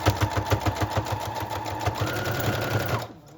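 A sewing machine runs a straight stitch through lace trim with a quick, even mechanical chatter, near and clear, before stopping abruptly.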